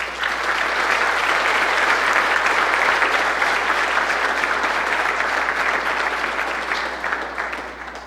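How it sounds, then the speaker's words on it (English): Audience at a community foundation breakfast applauding warmly, a dense steady round of clapping that fills the room and slowly fades toward the end. "Let's give them a warm round of applause."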